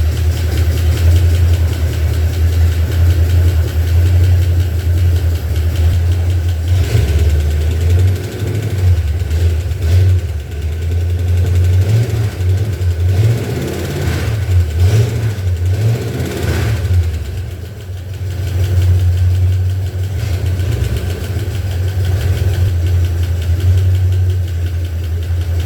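A 302 V8 engine in a 1976 Ford Bronco idles with a low steady rumble, a faint repetitive clicking ticking along beneath it, seemingly from the passenger side.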